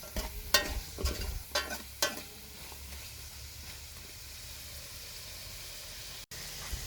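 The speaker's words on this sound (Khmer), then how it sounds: "រួចយើងរំងាស់គ្រឿងបន្ថែមទៀត ពុះគ្រឿងនឹងដែរយើងអាសា កូរត្រឡប់ចុះឡើងធ្វើម៉េចកុំឲ្យខ្លោច" Pork rib and papaya stirred and fried in a pan, a cluster of close utensil scrapes and clacks over the first two seconds, then a steady soft frying sizzle continuing alone.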